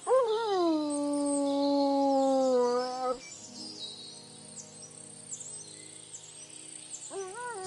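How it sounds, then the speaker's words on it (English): A dog howls in Kingdom Come: Deliverance 2, one long wavering howl that slides downward for about three seconds, then a quieter pause with faint ambient sounds before another howl begins to rise at the end. "No wonder the dog's howling like mad."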